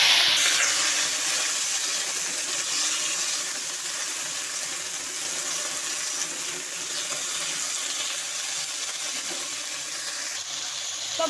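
Vegetables hitting a hot pan of oil with five-spice, a broad continuous sizzle and hiss that holds steady and close throughout, with no talk.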